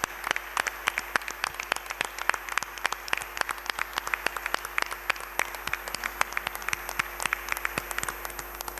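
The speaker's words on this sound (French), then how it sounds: "Nous allons applaudir Ecclesia TV." Church congregation applauding during a Mass at St Jacques, 2 Plateaux, Cocody, a steady mix of many hands clapping with sharp individual claps standing out, moderately distant and without talk.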